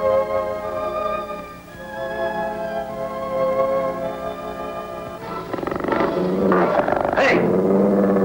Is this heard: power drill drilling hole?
no